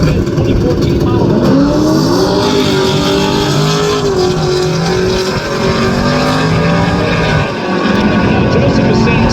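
Drag race cars, including a nitrous-fed Camaro, roar down the strip at Tulsa Raceway Park, a loud continuous engine blare with rising and falling pitch sweeps as they launch and pull away, under a crowd and announcer's voice.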